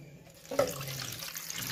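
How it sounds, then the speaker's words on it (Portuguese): Water being poured, about a liter, to brew guava leaf tea, a steady splashing stream starting partway in and running on close and moderately loud. "Aí você tá colocando água"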